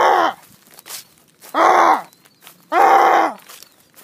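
A person's voice imitates a goose call outdoors near geese, making three loud, nasal honking bursts spaced about a second apart, with quiet gaps between them.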